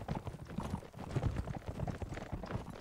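A horse gallops in the Mount & Blade: With Fire and Sword video game, a rapid, steady drumming of hoofbeats that is loud and continuous, with a brief dip near the start of the second second.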